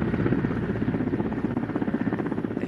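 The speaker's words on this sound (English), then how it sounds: "The helicopter comes to hover over the roof." A military helicopter hovers over a high-rise roof during a special forces exercise, its rotor thudding in a loud, steady, rapid chop with a constant engine drone.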